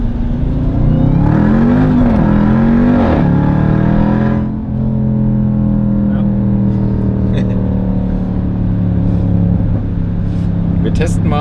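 Jeep Grand Cherokee Trackhawk, a 710 hp SUV, launches on a closed track, its engine climbing in a loud, close roar through a couple of quick shifts before settling into a steady drone, with voices heard inside the cabin.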